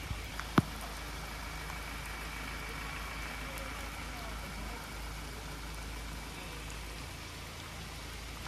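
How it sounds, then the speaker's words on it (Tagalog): Steady, dense hiss of heavy rain falling without letup at a campsite, with one brief sharp knock early on and faint background rumble. "walang tigil ang ulan"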